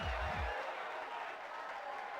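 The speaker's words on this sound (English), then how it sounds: "The cheering comes from an enormous crowd." Roar of an enormous cheering crowd in the fighting game Persona 4 Arena Ultimax, a steady dense wash of voices with a low rumble at the start.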